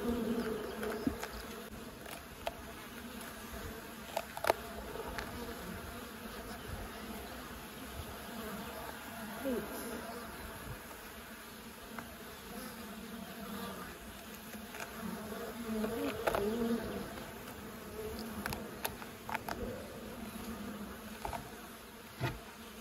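A steady, dense buzzing of many honey bees around a hive in the countryside, close by and continuous, with occasional louder individual buzzes passing near.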